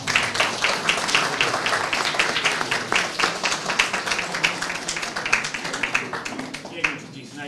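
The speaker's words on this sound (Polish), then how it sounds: "Brawa dla niego." Audience applause at a gallery event, sustained rapid clapping from a crowd, fairly distant and even in level, with some voices mixed in beneath.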